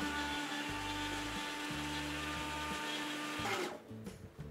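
A Preethi Zodiac Cosmo mixer grinder whirs loudly while grinding a puree, its motor pulsing in short bursts before cutting off near the end, leaving quieter handling sounds.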